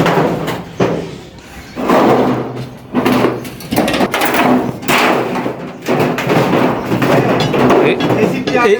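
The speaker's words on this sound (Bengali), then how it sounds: "অলরেডি শাটারিং খোলার কাজ চলতেছে" Heavy wooden thuds and slams ring out irregularly as wooden concrete shuttering boards are knocked loose from a roof slab and dropped, with people talking nearby throughout.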